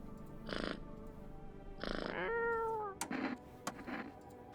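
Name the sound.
cat meowing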